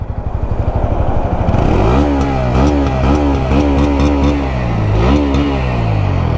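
A Bajaj Pulsar N160 motorcycle engine with an underbelly exhaust idles, then revs repeatedly in quick bursts, loud and close, with a throaty exhaust note rising and falling.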